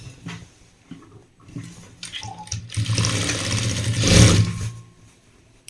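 Sewing machine stitching the hem of a uniform pant, a whirring run that builds in the middle and peaks near the end before stopping, with softer handling noises and brief pauses around it.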